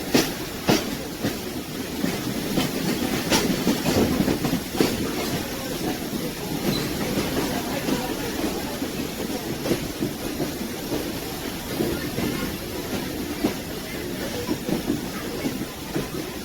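A continuous loud rumble of a steam train rolling along the Strasburg Railroad track in Pennsylvania, with rhythmic clicks and a steady hiss throughout.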